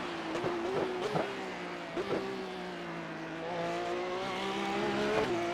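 In the iRacing sim, a race car brakes hard: a loud, steady engine drone drops in pitch, broken by several short sharp blips as it slows through the braking zone.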